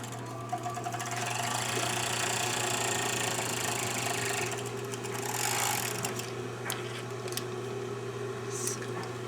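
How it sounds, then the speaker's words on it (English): A serger whirs steadily as it overlocks a curved hem edge on a costume piece, a continuous close mechanical hum with small shifts in pitch and a few clicks, no talking. "I'm going to serge it."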